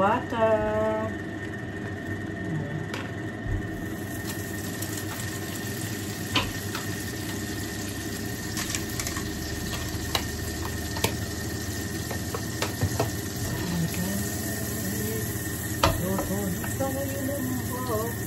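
Butter sizzles in a pan with a soft, steady frying hiss that runs continuously beneath someone talking.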